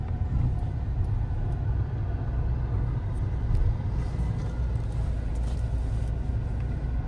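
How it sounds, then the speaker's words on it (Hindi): A Hyundai i20 car engine hums in a low, steady rumble from inside the cabin as the car pulls forward, with road noise and no clear rise in revs. "एक्सीलेटर लो हल्का सा, जाओ। रेस करो।"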